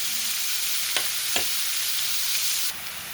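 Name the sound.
frying in a pan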